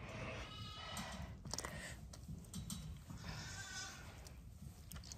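Sheep bleating in a lambing shed, several overlapping calls over steady livestock background noise, close and moderately loud.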